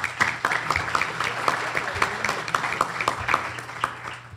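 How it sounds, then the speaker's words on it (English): An audience at a Tiger Bay Club gathering in Manatee County applauds a speaker, a dense patter of many hands clapping steadily at moderate loudness with no speech. "Please give George a round of applause."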